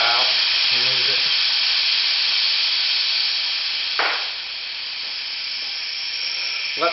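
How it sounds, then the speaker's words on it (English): Steady, loud hiss of air escaping from a car tire as it deflates on a Harbor Freight tire changer. It runs continuously and eases slightly partway through, with a brief faint voice-like murmur near the start. "Let the tire completely deflate."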